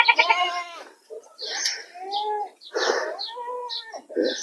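Goat kids about three to three and a half months old, some near four months, bleat repeatedly on a goat farm, several overlapping calls close by in quick succession, with someone talking in between.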